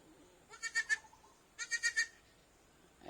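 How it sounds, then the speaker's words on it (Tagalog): Goats bleat on a farm among Anglo-Nubian breeding stock, two quick wavering bursts of several bleats each, fairly close and clear over a quiet background. "Ito, mga kambing ko,"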